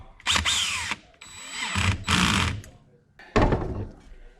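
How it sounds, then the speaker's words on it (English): Three bursts of a power drill whirring on Yamaha Kodiak 700 clutch parts, each lasting under a second, with short pauses between; close and fairly loud. "buzz these down with the drill."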